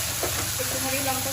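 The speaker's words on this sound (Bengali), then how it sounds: "তো অয়েলটা গরম হয়ে গেছে, এবার আমি পেস্টটা দিয়ে দেবো।" Spice paste hits hot oil in a pan and gives a steady hiss and sizzle in a home kitchen while a potol and lentil dish is being cooked, with faint voice-like tones under the frying.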